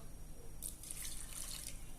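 Water poured from a cup into a pot of grated grapefruit zest for marmalade, a steady splashing trickle that starts after a brief pause and runs on alone.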